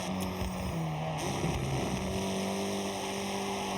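A 1993 Porsche 968 Turbo S engine in the Forza Horizon 6 racing game drones steadily at speed, its tone stepping between gears early on before settling into a sustained loud hum with faint background noise.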